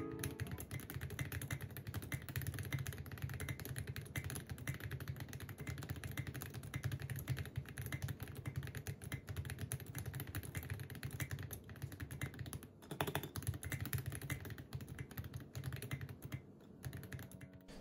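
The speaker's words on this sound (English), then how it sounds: "let me do a quick sound test of my keyboard so you can hear what it sounds like" Someone types steadily on a mechanical keyboard fitted with case foam and SA profile keycaps. Quiet, dense keystrokes clatter on without a break, with a short pause near the end.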